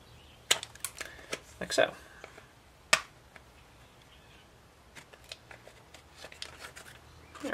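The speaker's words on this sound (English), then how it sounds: "I'm going to use that same razor knife to kind of bevel that edge there" A razor knife trims and bevels an edge, giving a few sharp clicking snips and scraping cuts close by, scattered with pauses, with brief talk in between.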